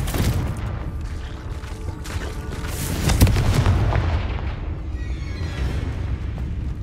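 Repeated Confringo fire spells in the game Hogwarts Legacy burst out as booming, gunfire-like blasts, a dense volley of sharp impacts swelling around the middle and then trailing into rumble.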